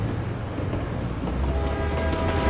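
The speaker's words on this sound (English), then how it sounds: "The train's still running." A train in a video game rumbles steadily past with a dense, continuous roar and a faint rattle of wheels and cars, loud and unbroken throughout.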